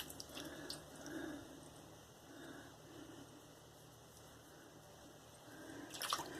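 A tap runs softly and steadily into a sink as a Supply SE safety razor is rinsed, a low continuous splash with small swells and a brief clatter near the end, quiet and without talk.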